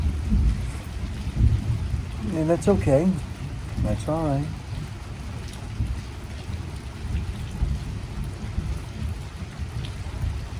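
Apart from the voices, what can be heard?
thunderstorm with rain passing over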